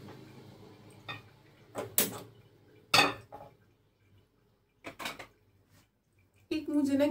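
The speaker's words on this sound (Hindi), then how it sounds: "फिर अब हम तड़का लगा लेते हैं।" Kitchen clatter from pans, utensils and drawers while preparing a spice tadka: scattered sharp clinks and knocks, some loud and some faint, separated by quiet gaps, with a louder burst near the end.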